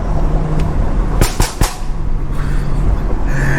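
Sharp cracks and pops burst over a loud, rumbling engine of a modified BMW F30 335i, a quick cluster of exhaust bangs near the middle amid steady mechanical roar.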